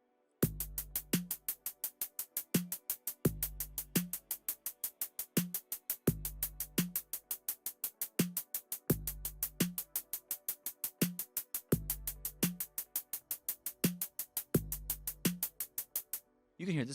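A slow breakdown drum beat programmed on the BandLab drum machine plays alone, with steady crisp hi-hat ticks over booming kicks and snare hits repeating in a relaxed, looping pattern before stopping abruptly.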